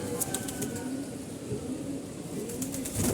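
Pigeons in a loft coo softly and repeatedly, with low murmuring calls, a brief flutter of wings and faint background noise.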